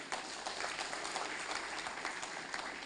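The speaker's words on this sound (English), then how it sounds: "she also requires an applause from you people" An audience at the Puducherry Digital Youth Summit 2016 claps steadily for a few seconds, a thick, even patter of many hands with no voices over it.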